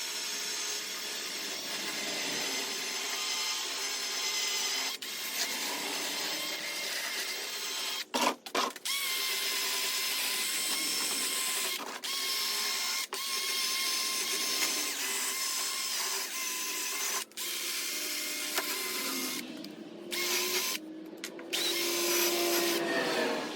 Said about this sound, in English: that's the wire brushing